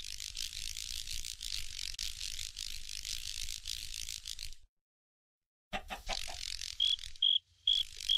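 Crickets chirp in a modded survival video game with a continuous shrill buzzing trill. It cuts out abruptly for about a second, then returns in broken bursts alongside a thin high tone, with no talking.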